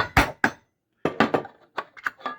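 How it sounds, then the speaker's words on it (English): A hammer driving a nail to punch drainage holes in the bottom of cans, heard as a series of sharp metallic strikes in small clusters, close and fairly loud with short pauses between them. "just take a hammer and a nail and just hammer"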